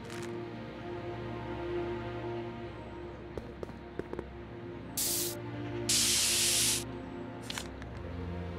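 Short bursts of hissing from a spray paint can in the Back to the Future game, two distinct sprays, the second longer, over a quiet bed of game ambience and scattered small clicks.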